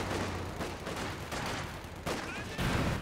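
Company of Heroes 2 combat with rifle grenade and flamethrower, a dense, roaring burst of gunfire and blasts that stays loud throughout with a sharp surge near the end.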